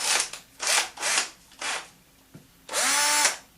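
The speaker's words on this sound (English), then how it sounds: "What I like is this little drum sander." A small drum sander on a Makita drill whirs in several short bursts, revving up and down, with a brief knock before a final longer run.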